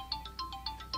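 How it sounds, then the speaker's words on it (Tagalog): A cellphone ringtone rings alone in quick repeated bright electronic beeps, about seven short tones in steady rhythm, fairly close and clear. "Cellphone mo, nagri-ring!"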